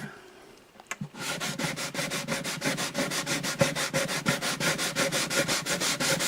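Sandpaper rubs lightly over the wooden bridge of an Alvarez Artist AD65 acoustic guitar in steady, even back-and-forth strokes, close and continuous after a brief quiet start.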